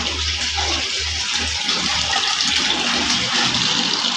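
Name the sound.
water running from a tap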